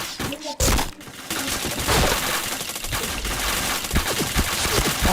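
Rapid bursts of automatic gunfire and loud impacts crackle through a video game match, dense and continuous, with a streamer's voice briefly heard amid the shooting.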